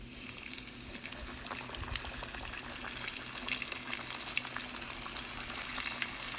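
Fish fries in hot oil with a steady, even sizzle of fine crackles that swells slightly toward the end, heard close and without any talk.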